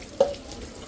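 A short, quiet spurt of water runs from a kitchen tap and stops quickly, with no one speaking.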